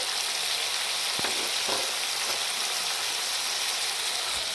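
Ginger paste sizzles steadily in a pan alongside softened tomatoes, a continuous close frying hiss with a few faint pops and no voices.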